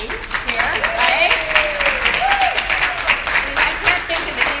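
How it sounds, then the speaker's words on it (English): A live audience at a natural-healing event claps loudly and steadily for a panel of experts, dense close applause with a voice briefly sounding through it. "I want to do one last round of applause for our amazing dream team here"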